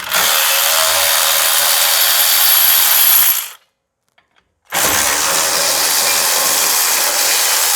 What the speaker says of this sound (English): now we can remove the two 18mm bolts